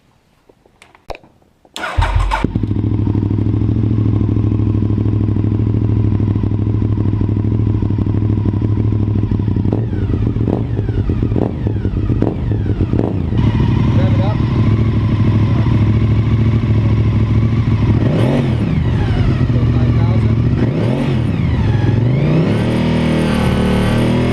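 A motorcycle engine, the kind of small engine used on ATVs and UTVs, starts with a sharp crank and then runs loud and close at a steady idle, with a few brief revs and clattery mechanical ticks over it.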